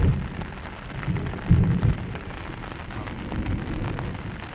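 Heavy early-season monsoon rain falls on waterlogged village farmland, a continuous dense wash with a couple of louder low surges partway through.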